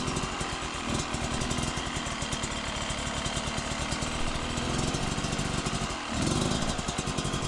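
Dirt bike engine on a steep trail, a close, rapid buzzing putter that rises and eases in waves under throttle, with a brief dip and quick revving recovery near the end.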